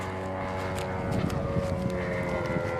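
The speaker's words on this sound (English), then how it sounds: "if we need to bring this model airplane in" A radio-controlled model airplane flies at a model festival, giving a continuous buzzing engine drone that is steady and fairly loud against outdoor background noise, with no speech.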